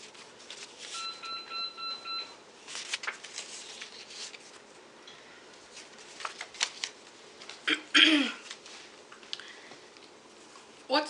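Paper note cards handled and shuffled during a demonstration speech, giving soft, irregular papery rustles and flicks with a sharper burst near the end, with a speaker's voice present throughout.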